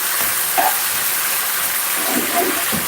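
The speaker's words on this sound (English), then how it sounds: "What I'm doing here, I'm browning off this, you know, sear him off." Meat browning in a hot pan during a family batch-cooking session: a steady, close sizzling hiss runs throughout, with a few soft clatters on top and no talk.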